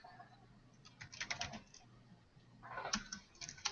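Someone types on a computer keyboard in quick, faint bursts of clicks, pausing briefly between runs.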